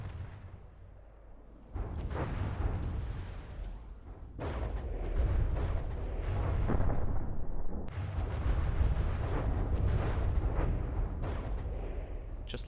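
A video game battle roars with repeated explosions and heavy artillery fire, booming blasts and rumbling bursts in dense succession, loud and continuous with no talk.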